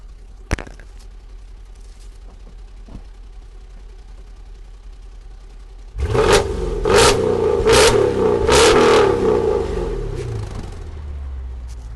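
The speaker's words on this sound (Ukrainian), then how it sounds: "А вихлоп, як звучить вихлоп? Зараз вам я це покажу." A Mercedes-Benz S-Class W221 with a 5.5-litre V8 running on LPG idles quietly, then its exhaust bursts into several loud, sharp revs in quick succession before settling back to a deep rumble.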